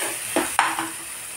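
Asafoetida and spices frying in a hot pan, a steady sizzle with two brief stirring scrapes partway through, close and moderately loud, no voices.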